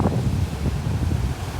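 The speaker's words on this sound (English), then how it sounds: "So a lot windier today." Steady wind roars across an anchorage in Rangiroa atoll, producing a dense, constant buffeting rush with low gusty rumble and no speech.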